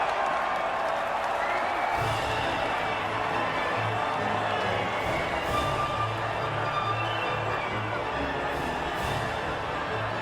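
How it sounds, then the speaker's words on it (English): Crowd cheering and applauding at the podium in the F1 2019 racing game: a steady, dense wash of crowd noise that holds at an even level throughout, with no clear talk over it. "the reaction from the crowd must be incredibly uplifting for them"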